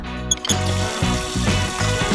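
Tap water runs steadily to rinse a stain out of a shirt, a continuous splashing flow with small shifts as the fabric moves under it.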